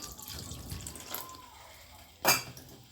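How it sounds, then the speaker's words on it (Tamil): Water trickles and splashes briefly into a pot of pori kulambu, with a short louder gush near the end, close by and fairly quiet. "இன்னும் ஒரு ஒரு அரை கிளாஸ் அளவுக்கு நான் தண்ணி ஊற்றிக்கிறேன்"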